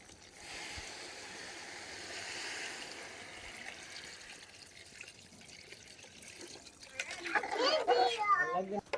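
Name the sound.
water being added to cooking vegetables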